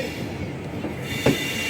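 Railway carriages at a station platform give off a steady rumbling hum, with one brief louder squeal or clank near the end; no one speaks.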